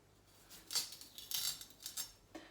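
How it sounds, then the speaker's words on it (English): A kitchen knife slicing potatoes lengthways into wedges on a board, a few separate crisp cuts and taps spaced apart, close and fairly quiet with no speech. "I'm just gonna cut them into wedges."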